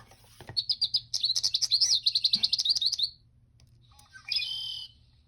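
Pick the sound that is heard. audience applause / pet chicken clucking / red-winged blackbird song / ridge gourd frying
red-winged blackbird song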